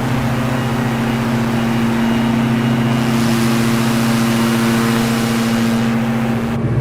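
A Diamond DA62 aircraft engine runs at full throttle in a flight simulator game, making a loud, steady drone with a strong constant hum that holds level throughout without any talk.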